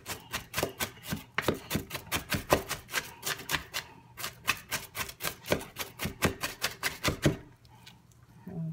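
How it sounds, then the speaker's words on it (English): Onions being chopped finely with a large knife on a board, a fast, regular run of crisp knocking strokes that continues steadily and then stops near the end, close up with no talk. "The trick is to use a large knife and just to hold it and methodically chop"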